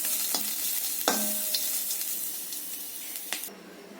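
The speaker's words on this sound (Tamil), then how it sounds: "5 வெள்ளைப்பூடு பல்லு நச்சுட்டு போட்டிருக்கேன். நல்லா வறுக்கணும்." Five crushed garlic cloves fry in a pan with a soft, continuous sizzle, broken by a few sharp clinks and scrapes of a spatula against the metal.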